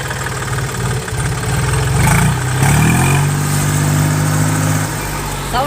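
A 735 FE tractor engine running steadily in first gear, a loud, close, low diesel drone that holds throughout with a slight rise in pitch partway through.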